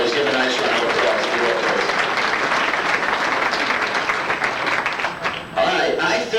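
A banquet audience at a 1993 St. Louis auto racing fan club awards night bursts into loud, sustained applause, a dense wash of many hands clapping steadily throughout and thinning briefly near the end.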